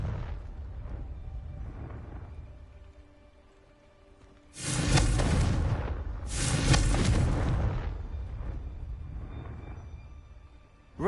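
Blast spell in the Hogwarts Legacy video game, two heavy booming explosions about two seconds apart, each a broad rumbling burst that decays slowly, over quieter low game ambience with no talk.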